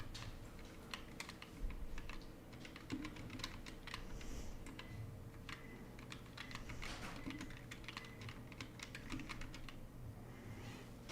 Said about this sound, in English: my hand's frozen enough to have difficulty typing